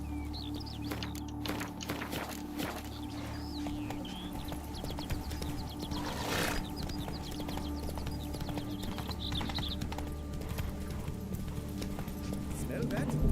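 A horse's hooves clip-clop steadily through Witcher 3 gameplay, a continuous muffled rhythm under game ambience and music, with a voice speaking briefly over it.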